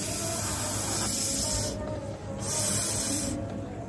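Breath blown steadily onto a DHT11 humidity sensor makes a close, broad airy hiss in two long gusts that swell and fade, with faint background hum and no talking.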